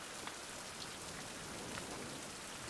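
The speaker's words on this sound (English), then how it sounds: "And it's still raining. It is still raining out." Steady rain falling in the survival video game Survival: Fountain of Youth, a dense, even wash of hiss and patter with scattered droplet ticks, continuous and fairly quiet.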